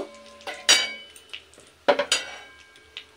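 Whole cumin tempering stirred in a pan, heard as several distinct metallic clinks and clangs of a utensil against the pan in irregular bursts, close by, with only faint frying underneath.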